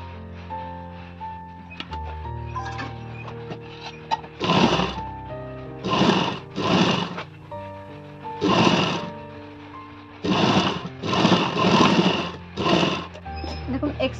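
A sewing machine stitches a bra-cut blouse in short repeated bursts, each run a loud, close, buzzy whir with quiet pauses between, over a steady background hum.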